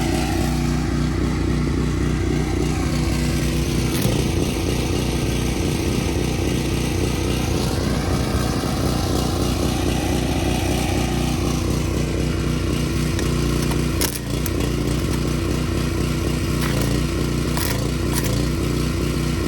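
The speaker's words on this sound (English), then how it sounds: "We got a generator, going to the welder, and the welder going to the differential." A generator runs continuously to power a welder working on the differential of a Mitsubishi Mighty Max pickup, a loud, steady, close engine drone with a buzzy rough tone and brief scraping touches, no speech.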